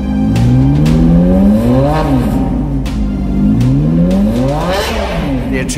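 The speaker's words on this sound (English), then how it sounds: "The sound of the engine, to me, is like music." A Maserati engine revs hard and climbs through rising and falling pitch sweeps, loud and close, with layered passes and gear changes blending into a continuous roar.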